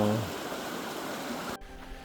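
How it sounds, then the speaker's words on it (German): Rushing river water at a difficult river crossing on a camper journey toward Ushuaia, a steady broadband wash that drops abruptly in level about three-quarters through, with no voices. "Wir sind zurück an der zweiten schwierigen Flussquerung. Und das Wasser ist viel höher."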